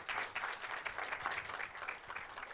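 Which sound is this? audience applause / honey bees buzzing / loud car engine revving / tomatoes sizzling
audience applause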